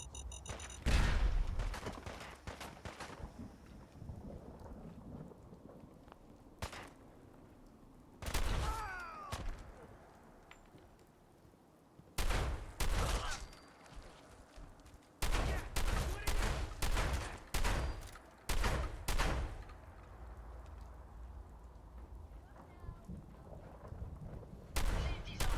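Bursts of gunfire in Fallout 4, with sharp volleys and rapid repeated shots in clusters, loud and near, separated by quieter stretches of background ambience.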